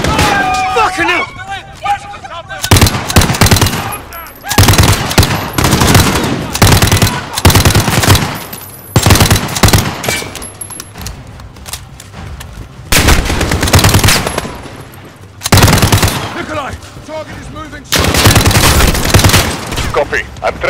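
Automatic and rapid gunfire in the first-person shooter Call of Duty: Modern Warfare, loud repeated bursts through an intense firefight, with shouted voices under and between the shots.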